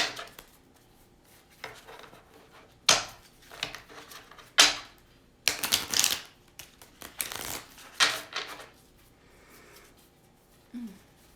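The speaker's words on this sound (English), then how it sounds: "I'm going to pull a signifier using the Goddess Tarot deck." A Goddess Tarot deck is shuffled by hand in a series of short, close papery riffles and swishes, arriving in irregular bursts with quiet pauses between.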